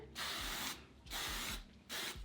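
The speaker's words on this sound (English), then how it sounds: "I need a break to spray my hair" Three long hissing bursts from a hair spray can, close by, with short pauses between them and faint clicks underneath.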